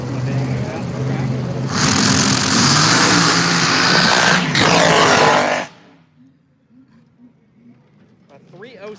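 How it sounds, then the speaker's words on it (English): A small-block-powered Gremlin drag car races at about 110 mph on a sand drag strip, a loud roaring engine sustained for several seconds before cutting off abruptly, with an announcer talking over it. "307 going way crooked there, 110 miles an hour. Driving the small block powered Gremlin machine."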